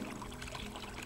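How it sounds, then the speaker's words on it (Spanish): Water flowing from a spring fountain in the Asturian countryside, a steady close trickle and pour with no pauses. "Aquí hay una fuente"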